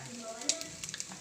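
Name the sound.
fish frying and sizzling in a pan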